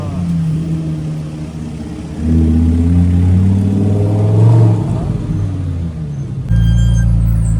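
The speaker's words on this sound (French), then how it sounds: "McLaren 775 LT." A McLaren 775LT supercar on a summer street in Saint-Tropez rumbles and revs nearby, its engine tone rising and swelling before a sudden deep, loud roar near the end, with voices heard over it.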